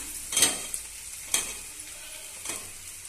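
Mashed potato goes into a pan of sautéed ginger and garlic, giving a soft sizzle with three distinct scraping stirs of a spoon against the pan, close and quiet between strokes.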